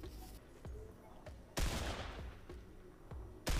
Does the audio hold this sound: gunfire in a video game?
yes